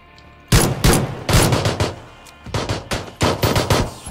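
Bursts of rapid automatic gunfire in the video game PUBG, loud and close, in two volleys separated by a short pause, each a quick rattle of shots.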